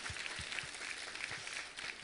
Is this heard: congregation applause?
yes